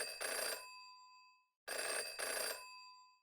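Two bursts of an old-style telephone bell ring out in Jenny LeClue, each clanging ring about half a second long and separated by a short silence, loud and clear with no other sound.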